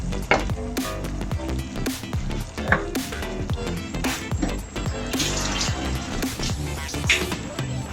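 Water poured into a pan of sizzling aloo egg curry with green chillies, loud crackling and hissing with stirring scrapes throughout, close and steady.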